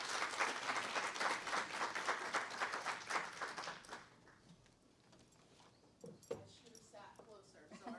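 An audience applauds to welcome a speaker at a liver health gathering. The clapping is dense and steady for several seconds, then dies away, and voices speak and murmur afterwards.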